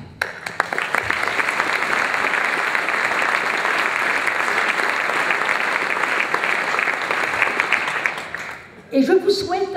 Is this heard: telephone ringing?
no